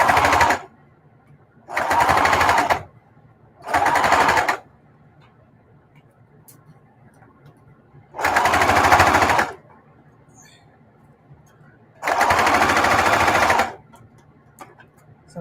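Sewing machine stitching a mitered quilt binding, running in five separate loud bursts of about one second each, with quiet pauses between the runs.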